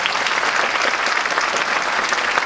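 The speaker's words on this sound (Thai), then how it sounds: "ขอเสียงปรบมือด้วยครับ" An audience claps steadily at a university finale performance of female Nora dance, a dense, even wash of applause filling the whole moment without voices.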